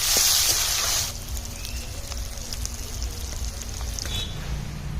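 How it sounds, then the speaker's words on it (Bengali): Chopped onions dropped into hot oil with whole garam masala for a country chicken curry: a loud, bright sizzle bursts up at first, then settles into a steadier, quieter frying crackle. "পেঁয়াজ কুচি দিয়ে দিলাম, দিয়ে ভালো করে পেঁয়াজগুলোকে লাল লাল করে ভেজে নেব"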